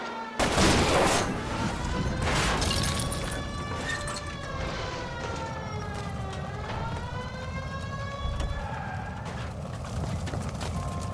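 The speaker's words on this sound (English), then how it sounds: "I'll try to shoot out his tires" Gunfire aimed at a fleeing car's tires during a police chase in the video game L.A. Noire: a few sharp shots ring out over a wailing police siren and engine noise, loud and continuous throughout.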